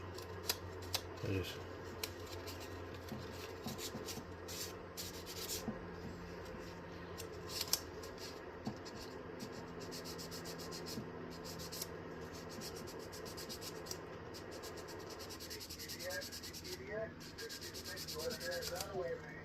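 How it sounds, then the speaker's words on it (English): Very fine sandpaper rubbing the contacts of a 1982 Bearcat 160 scanner, a steady close scratchy rasp running throughout, with faint voice-like sounds and occasional clicks. "I'm going to use some very fine sandpaper."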